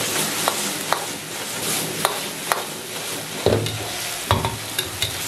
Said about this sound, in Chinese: 翻炒均匀后，烧至30秒